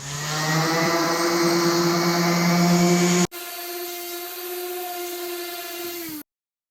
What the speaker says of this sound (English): I'm going to keep my palm sander as flat to the surface as I can, and always running along the grain